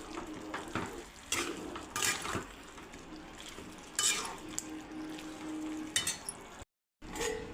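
Chicken pulao mixture with yogurt, coriander and mint leaves being stirred in a kadhai, giving repeated scraping and wet mixing strokes in an irregular rhythm, close and fairly quiet, with no talking.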